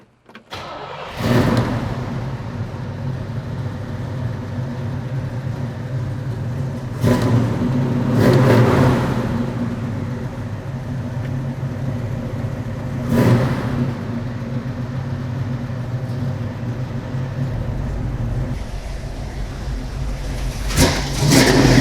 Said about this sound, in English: I want you to hear this car run.